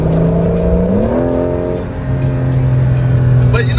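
Engine of a Porsche 911 GTS T-Hybrid pulls hard from inside the car, a loud sustained tone rising in pitch through a gear change, heard close up.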